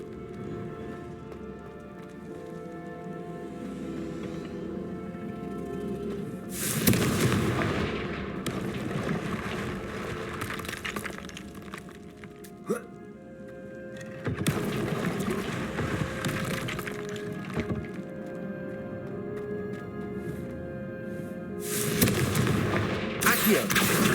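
Fire blast spell from the game Hogwarts Legacy, heard as several loud, roaring explosive bursts lasting a second or two each, separated by quieter stretches of low game ambience and music.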